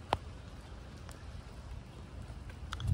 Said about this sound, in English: Look, it's raining. It's raining on me.